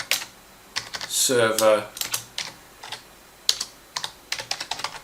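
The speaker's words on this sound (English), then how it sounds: "simply type in SQL" Keys clatter on a computer keyboard as a search is typed into a Google Chrome browser, close, crisp clicks in quick uneven runs, with a single spoken word early on.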